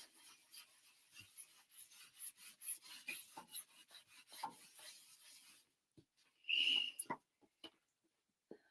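Paper towel rubs ink off a heat-embossed card in quick, repeated rasping strokes, close and fairly quiet, followed by a short pause and one brief louder scrub.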